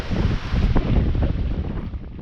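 Grey, steady wind roars across a boat at sea, buffeting the microphone with a loud, continuous rumbling whoosh.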